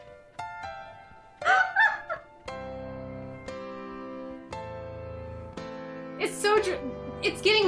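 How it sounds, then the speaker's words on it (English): A Google Assistant smart speaker plays a recording of a goose honking: short, nasal bursts that come twice, over plinking, piano-like background music. Both are fairly loud and close. "Hey Google, what sound does a goose make?"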